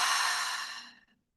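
An open-mouthed exhale during a slow breathing exercise gives a single close, breathy sigh that tapers off into silence within about a second.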